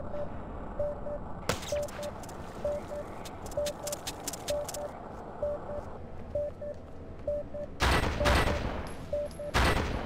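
Gunfire in the Xbox game Splinter Cell: Chaos Theory during a one-on-one match, with a few loud bursts of shots late on over steady game ambience and a repeating electronic beep.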